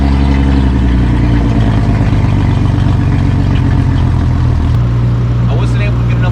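An outboard boat engine runs on flushing earmuffs fed by a garden hose during a salt-removal flush, a loud steady idling drone with a low throbbing hum that shifts pitch partway through.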